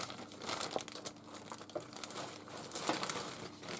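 Small craft pieces are peeled off a cardboard backing held with double-sided tape, making soft close crinkling and light tearing sounds in short irregular bursts, quiet and without speech.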